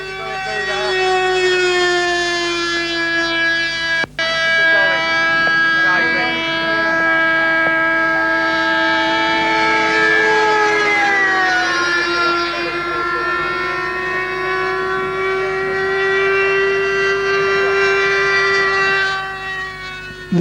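A model aircraft with an OPS 45 ducted fan engine runs with a loud, sustained whine, its pitch sliding down and back up as the throttle changes, heard outdoors at a model flying event.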